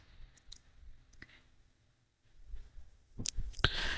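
A few sharp, isolated mouse clicks sound close up against a quiet room, spaced unevenly, with a small cluster of clicks near the end.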